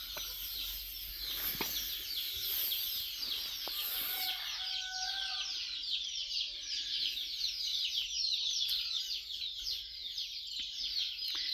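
Country chicks in the chick section of a poultry shed peep in a steady, dense chorus of high chirps, with occasional louder calls and a few faint clucks nearby.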